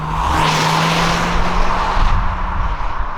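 A manual-transmission 2022 Honda Civic Hatchback's engine revs loudly and close as the car pulls away, the motor droning and tires hissing over the road with no voices.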